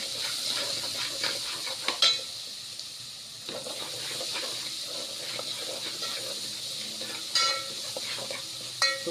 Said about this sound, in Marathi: अद्रक लसूणचा पेस्ट टाकत आहे यामध्ये.